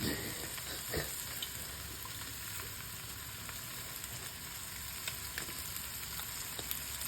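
Mushrooms frying in butter and olive oil in a pan, a dense, even sizzle that runs the whole time with a few faint clicks and stirring sounds, close and steady.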